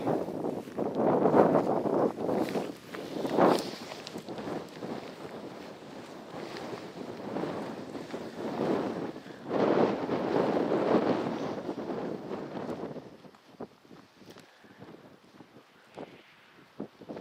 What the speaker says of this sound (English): Quite windy. The back tent wall is just going like this.